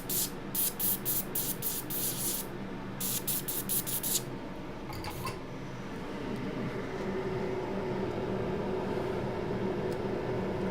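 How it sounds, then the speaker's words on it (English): Compressed air sprays onto a MacBook in a series of short sharp hissing bursts, then gives way to a steadier low hiss and background hum. "Just going to use some compressed air on it."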